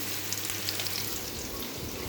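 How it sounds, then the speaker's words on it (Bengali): Vegetables fry in a pan for a thin fish curry, making a soft continuous sizzle and crackle close by with no voices. "তো এটা ভালো করে ভাজা হোক।"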